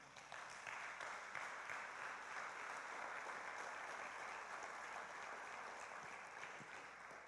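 Church congregation applauding together, giving a dense, continuous clatter of many hands that starts after a short pause and holds steady, fairly distant and soft, with no talking.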